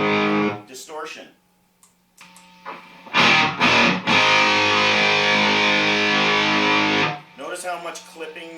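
Electric guitar fed through a distortion pedal: a couple of short choppy strums and then a thick, heavily clipped chord sustained for about three seconds, with speech before and after.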